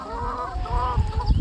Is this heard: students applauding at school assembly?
no